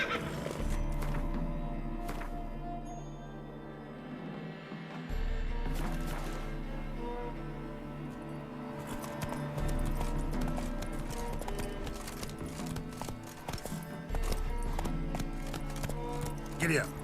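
Rhythmic horse hooves clip-clop with occasional neighs in The Witcher 3, played loud over a game music bed with a spoken voice in places.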